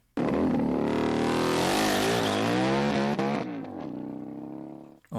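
Harley-Davidson motorcycle engine revs hard, climbing in pitch for about three seconds before easing off and settling into a lower idle; loud, close and alone without talk.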